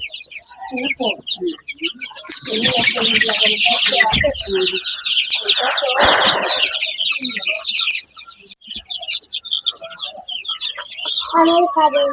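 A flock of tiger chickens clucks and chirps in a busy, overlapping chorus, with some louder close calls and rustling, and a few bursts of noise between them.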